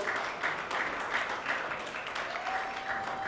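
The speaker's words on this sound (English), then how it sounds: "Let's give them a round of applause." Steady applause from an audience at a procurement leaders summit at Dallas College, a dense patter of many hands clapping at once that holds at an even, moderate level throughout.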